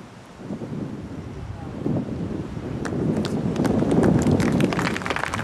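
Wind gusts across an outdoor lawn bowls green at the 2007 Queensland Open, a rough blustery rumble on the microphone building from soft to strong, with scattered faint clicks over it.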